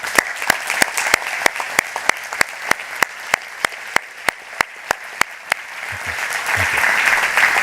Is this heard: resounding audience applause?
yes